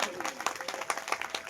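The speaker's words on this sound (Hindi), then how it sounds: "जोरदार तालियों।" Audience applause at a Ram Katha religious gathering, a steady patter of many hands clapping with small bursts, moderately loud and mixed with faint voices.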